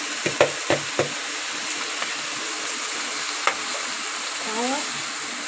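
Washed rice tipped into a pot of cooking lentils and stirred, giving a few sharp scraping clatters early on, then a steady low sizzle with one more knock and a soft swish near the end.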